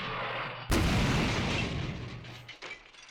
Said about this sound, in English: Did I just hear several explosions?